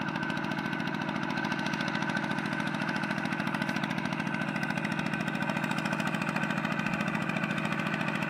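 A small walking tractor engine runs steadily at idle, a constant rapid chugging throb at even volume with no other sounds.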